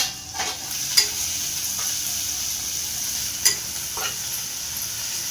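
Tomatoes softening in a pan for a spicy-sour-sweet onion-tomato chutney, with a steady low sizzle and a few sharp scrapes of a spoon stirring against the pan; no talking.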